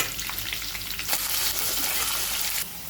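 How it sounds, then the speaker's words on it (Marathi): Long-sliced onions sauté in hot oil with mustard seeds, cumin and curry leaves for a tempering, making a loud, close, continuous sizzle with a burst of brighter crackle as stirring picks up. "असे लालसर होईपर्यंत परतून घ्यायचे"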